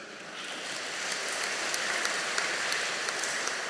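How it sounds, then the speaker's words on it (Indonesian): An audience at a church gathering after Mass applauds the organising committee, a steady rain-like wash of many hands clapping from some distance, holding even throughout. "tepuk tangan untuk mereka"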